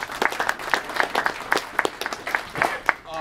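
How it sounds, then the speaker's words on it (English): Sparse applause from a small group at a robotics club meeting, scattered individual hand claps in an uneven rhythm, fairly close and moderately loud, with no talking over it. "Big round of applause for Google"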